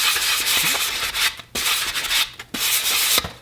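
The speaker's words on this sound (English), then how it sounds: "You're kind of lightly sanding to pick up just the dust in order to just lightly fill this" Rhythmic strokes of sandpaper lightly rubbing over a wooden Danish 1891 Krag infantry rifle stock, three long passes with brief pauses between, close up and fairly loud.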